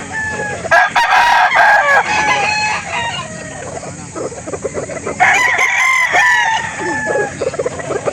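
Kelso and Boston gamefowl roosters crow repeatedly at a bustling poultry market in Calauan, Laguna, loud, overlapping calls bursting out amid a din of other birds.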